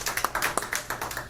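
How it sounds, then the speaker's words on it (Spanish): A small audience claps at a book presentation in a cultural centre, with a few distinct, close claps in an uneven rhythm over a short moment and no talk. "Un aplauso para los responsables de este programa"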